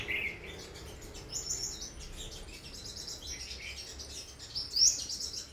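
Caged sunbirds chirping, with thin high tweets and short calls scattered irregularly over faint background noise, fairly close but quiet, no talk.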